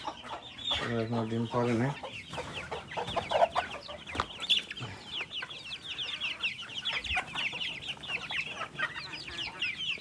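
Hens in a laying house cluck in a dense, overlapping stream of short calls, with one louder drawn-out squawk near the start, while a person speaks briefly nearby.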